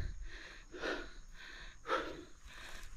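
Heavy, ragged breaths from a hiker climbing a long, steady uphill trail in Zambales, two loud rasping gasps about a second apart over quieter continuous panting, close to the mic.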